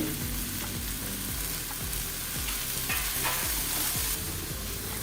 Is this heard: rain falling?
no